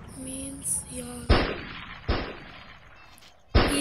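Several sharp gunshots crack out in a first-person shooter game, three or four separate bursts spaced a second or two apart over faint game background and beeps.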